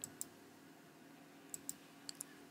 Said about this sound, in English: But you just keep clicking